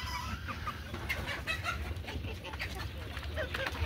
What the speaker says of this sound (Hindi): ये हमारी गोल्डन फ्रांसी गोल्डन मुर्गी है जी